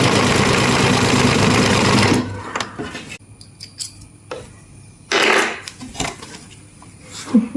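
A sewing machine stitches a kurti, a close, steady mechanical whir for about two seconds, then quieter clicks and handling noises, followed by another short burst of stitching and some light rattles.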